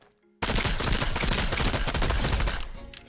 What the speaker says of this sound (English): now let's check out the gold scoped burst SMG at 20 meters out